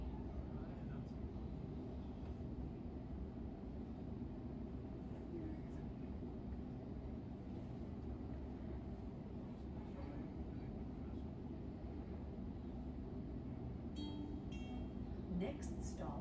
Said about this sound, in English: Now on a train leaving Sydenham towards St Peter's